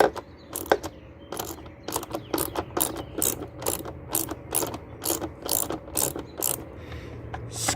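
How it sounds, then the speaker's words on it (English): Screwdriver working screws out of a car air filter cover, a rapid ratcheting series of clicks repeating steadily throughout, close and fairly loud, with no talking. "Phillips or flathead can be used to take screws out."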